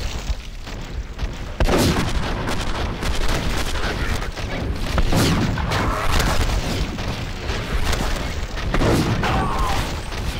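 Gunfire in the video game SMOD Outbreak: a dense, loud barrage of booming shots and impacts that continues steadily throughout, with a few heavier blasts standing out.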